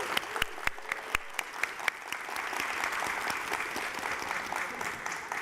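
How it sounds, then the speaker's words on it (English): Audience applause for student projects at a tech conference keynote showcase, opening with a few sharp individual claps that swell into steady, dense clapping from a sizable crowd throughout. "Let's give them another huge round of applause."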